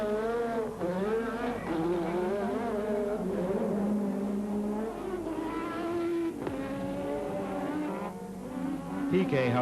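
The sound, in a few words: Formula 1 race cars racing and braking, 1986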